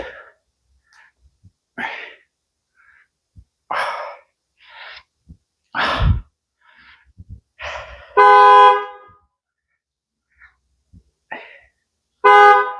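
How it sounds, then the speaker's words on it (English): A car horn honks repeatedly outdoors at a distance, two sustained blasts separated by scattered clanks, breaths and gym noises. "Why does the dude keep honking?"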